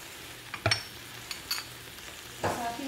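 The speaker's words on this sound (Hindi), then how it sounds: "इसमें मैं डालूंगी सिराचा सॉस, आपके टेस्ट पे आपको जितनी पसंद हो 1 टीस्पून भर के डालूंगी।" Chicken pasta sizzling and frying in a pan as sriracha sauce goes in, with a few soft stirring scrapes and clinks over a steady low sizzle.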